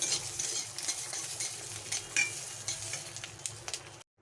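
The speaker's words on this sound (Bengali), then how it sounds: "পেঁয়াজের পাবড়িগুলোকে আমি হালকা ভেজে নেব" Sliced onions frying lightly in a pan: a crackling sizzle with frequent short stirring scrapes and clicks that cuts off abruptly near the end, no voices.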